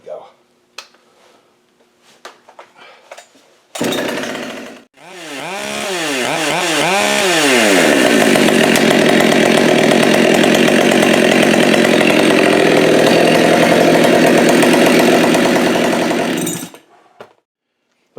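A Husqvarna 572 or Holzfforma G372XT chainsaw fires up after a few quiet handling noises, revving with wavering pitch before holding a loud, steady high idle for about ten seconds and cutting off.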